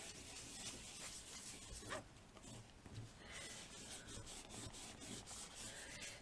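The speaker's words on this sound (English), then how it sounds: "find a clean section and just rub that" A clean section of cloth rubs darkening paint on a small decoupage mixed-media plaque, giving a steady, close, continuous scrubbing sound for about six seconds, with a few brief louder strokes and no talking.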